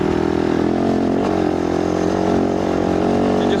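A Can-Am rides at high speed along a desert trail, its engine droning loud and steady with wind rush and rattling throughout.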